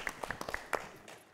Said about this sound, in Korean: 예, 박수 주세요.